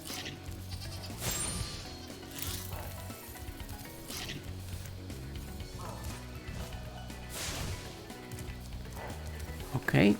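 In Spyro Reignited Trilogy, sheep bleat several times in short, separate calls heard over game music and sound effects, with a sizzling burst near the end.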